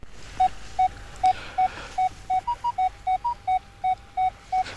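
A Minelab Equinox 900 metal detector sweeping on a beach gives a string of short, evenly spaced electronic beeps, a few of them higher in pitch. They sound loud and clear over faint background hiss.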